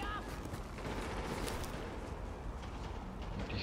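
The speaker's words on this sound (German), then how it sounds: "Und ich höre schon Schüsse." Gunfire in the video game The Division, a dense, continuous rattle of distant shots and fusillades under a steady wash of noise, with a voice speaking over it.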